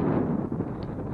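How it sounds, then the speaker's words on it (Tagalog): Strong wind buffets the microphone in a steady, loud roar with low rumbling gusts, no voices present. "Oh, napakahangin. Grabe yung hangin."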